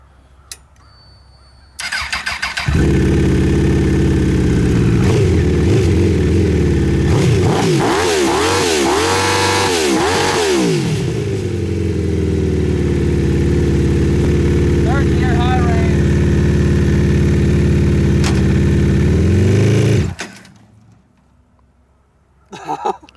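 An off-road buggy powered by a Honda CBR 1000 engine starts up and roars loudly for about eighteen seconds, revving and shifting pitch up and down as it drives, then cuts out.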